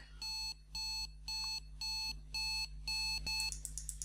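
A piezo buzzer in a PIC microcontroller temperature control project beeps in a steady rhythm, seven even, shrill tones spaced about half a second apart, with faint clicking at the end.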